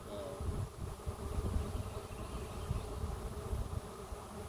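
A honeybee swarm hangs in the air outdoors, a steady low buzzing drone of many bees at moderate distance, with no clear speech.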